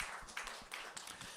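Church congregation clapping during an Easter Sunday service, a short burst of scattered, fairly quiet applause from many hands filling the room with no voices.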